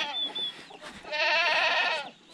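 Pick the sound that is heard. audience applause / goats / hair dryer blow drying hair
goats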